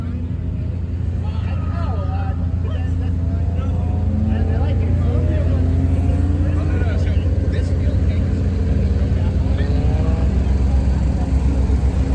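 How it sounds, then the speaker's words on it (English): A red Autozam AZ1 sports car drives on a race track, its engine a steady, loud drone with rising and falling tones as it shifts through the revs, heard continuously from close by. "About to catch a ride in the red AZ1."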